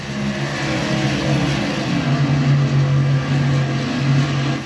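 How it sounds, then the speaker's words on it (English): A truck-series race truck running at Charlotte, its engine droning loud and steady with the throttle eased off and fed back in, a constant close mechanical roar that swells and settles slightly. "Just kind of rolling out of the throttle, letting it breathe a little bit more, and then getting back into it easily."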